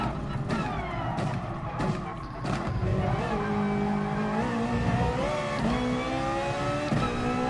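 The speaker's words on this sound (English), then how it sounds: "These kind of Ferraris are quite fun to drive." A Ferrari in Gran Turismo Sport races hard, its engine revving and shifting through rising tones. The tires squeal briefly amid steady, moderately loud driving noise with no talk.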